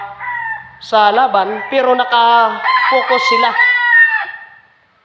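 Gamecock roosters crow several times in close succession, loud and near, their harsh drawn-out calls overlapping, with someone talking underneath.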